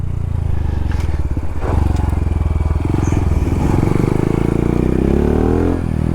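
A roughly 20-horsepower trail motorbike rides in second gear over a dirt trail, its engine a loud, close, continuous buzzing drone that rises and falls in pitch with throttle changes, with occasional rattles and scrapes.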